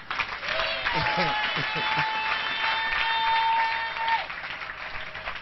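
A congregation at a church service claps and cheers loudly and steadily, with sustained voices and high calls rising over the applause.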